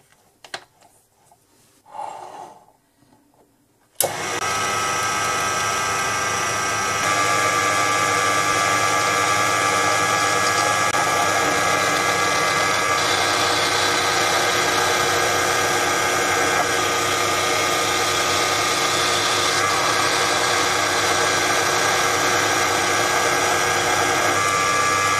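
A Proxxon PD 250 e lathe turning 5mm metal stock down starts up after a few faint knocks, then runs as a steady, loud whine and hum with a constant cutting rasp, unbroken for over twenty seconds.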